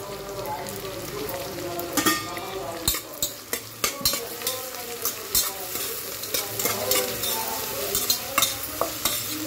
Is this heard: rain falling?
no